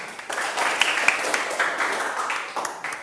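A classroom of students claps together, uneven bursts of hand claps with sharp individual slaps standing out, fairly close and lively for about three seconds.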